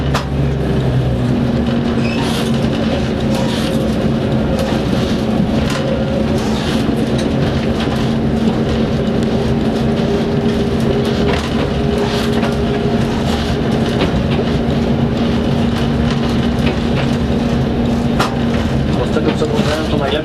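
A narrow-gauge train runs on the Żuławy railway with a continuous rumble and rattle of wagons and faint rail clatter. The sound is loud and steady throughout, and voices murmur underneath.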